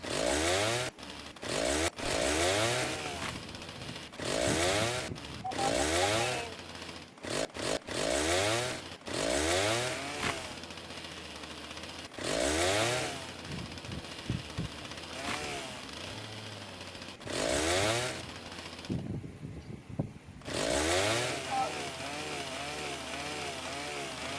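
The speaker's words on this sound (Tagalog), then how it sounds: "May chainsaw na ako. Mag-ano muna ako ng mga wood." A chainsaw cutting wood revs in repeated loud bursts, the engine rising and falling with each cut and idling roughly between them, running close up through the whole stretch without any talk.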